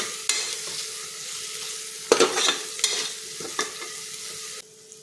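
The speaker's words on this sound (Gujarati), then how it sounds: "બધું આપણે મિક્સ કરી લઈશું।" A spoon scrapes and stirs spices and rice in a sizzling pan for chana pulao, with several distinct scraping strokes over steady frying, close and clear, with no talk.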